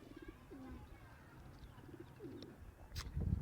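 Male pigeon cooing in a home loft, a few soft rolling coos at moderate distance over quiet background, with a brief voice and rustle near the end.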